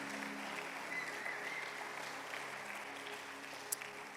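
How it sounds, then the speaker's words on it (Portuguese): A church congregation applauds in praise during a sermon, a soft, even wash of many hands clapping at a distance, steady throughout with one sharp click near the end. "Você pode aplaudir Jesus bem forte?"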